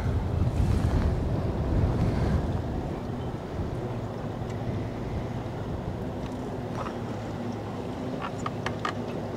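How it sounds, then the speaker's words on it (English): Strong wind roars and buffets the microphone, with heavier gusts at the start, then a steady rushing blow with a few faint clicks. "we're still having some really powerful wind gusts like I am right at the moment"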